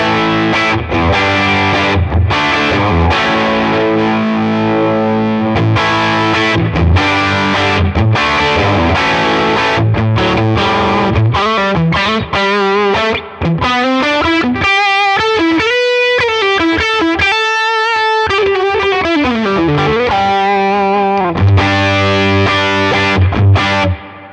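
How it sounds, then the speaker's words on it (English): A Tone King Imperial guitar amp model, cranked with overdrive 1 engaged, drives a loud, smooth, saturated electric guitar through a continuous run of chords and fast single-note lines with sustained bends, up close and unaccompanied. "if we turn on overdrive 1, this is what it sounds like"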